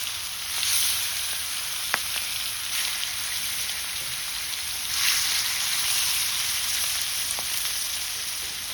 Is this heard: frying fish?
yes